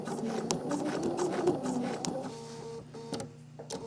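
A sewing machine whirs steadily with rapid mechanical ticking while machine quilting, stitching continuously at close range before slowing into a few separate clicks.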